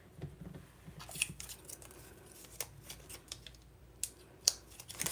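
Scissors snip and trim paper for a paper craft, giving scattered crisp cuts and small crunches at close range, with soft handling noise in between and no talking.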